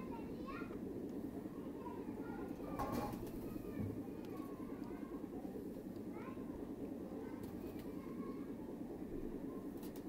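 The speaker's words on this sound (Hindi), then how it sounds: "ये कबूतर है" Pigeons of a Mian Nazeer bloodline breeding pair coo softly in a loft, the low murmuring calls repeating beneath a steady background hum and occasional faint clatter.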